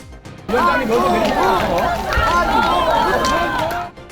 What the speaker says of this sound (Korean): 한동훈 위원장이 탄 차량이 들어서자 지지자들의 환호가 커집니다